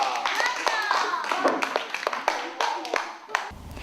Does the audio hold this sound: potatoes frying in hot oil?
no